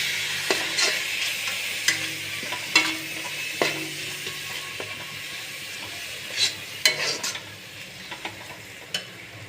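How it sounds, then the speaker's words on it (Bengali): Rui fish curry spice paste being stirred with water in a pan: steady scraping swirls over a soft sizzle, with sharp spoon-on-pan clinks at irregular intervals, close and moderately loud. "এবার এর মধ্যে হালকা জল দেব, হালকা জল দিয়ে এটাকে মশলাটা একটু নেড়ে নেব।"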